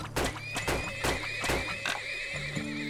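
Horses in the video game Turmoil whinny several times in quick succession, loud and close, with clip-clopping hooves mixed in.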